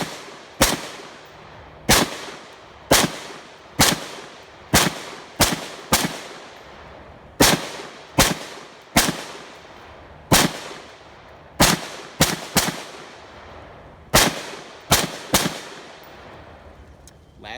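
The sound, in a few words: Armalite AR-180B rifle test shots with Thermold 30-round magazine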